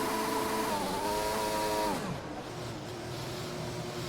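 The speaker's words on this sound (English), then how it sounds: "a little quick burnout there for the pole sitter" A Williams race car in a racing game doing a quick burnout, engine whine sliding down in pitch before settling into a lower steady drone, loud and alone.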